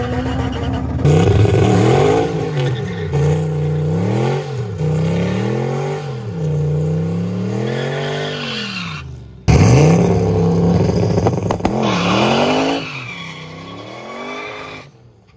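Junkyard turbo Corvette launching on a drag track, its engine revving loud and close in rising, falling surges with tire spin, cutting off briefly before a second hard pull with squealing rubber.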